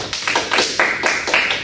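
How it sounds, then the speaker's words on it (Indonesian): A small group in a classroom claps a short burst of applause, around six quick, close claps in an uneven rhythm. "Boleh dong tepuk tangan dulu."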